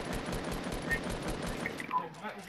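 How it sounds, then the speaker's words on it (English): Rapid repeated gunshots from a Fortnite fight, an evenly spaced burst of fairly close automatic fire that thins out toward the end. "I'm gonna keep shooting."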